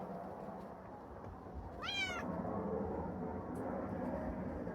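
A cat gives one clear, drawn-out meow on a small Indiana farm during a snowy winter storm, against a quiet outdoor hum.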